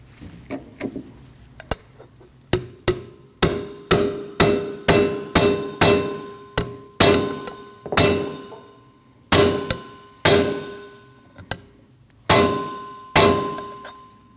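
A hammer taps a rear brake backing plate seal into place on a 2003-2008 Subaru Forester. About twenty sharp metallic clangs ring out close by in a steady rhythm, with a few short pauses between groups.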